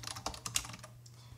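Quick keystrokes on a computer keyboard as a folder name is typed, a short burst of clicky taps over a steady low hum, then a pause and one faint stray tap.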